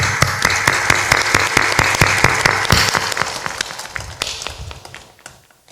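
A satsang audience in Salempur, Bhagalpur, Bihar claps loudly and briskly, sharp distinct claps over a steady applause bed that gradually thins and fades out near the end.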